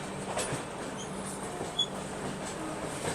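Telangana Express passenger train rolling along between New Delhi and Jhansi, a steady onboard rumble with a low hum and faint clatter throughout, no talking.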